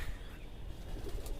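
A trained pigeon coos softly and faintly over low background rumble, a brief murmuring call with no one speaking.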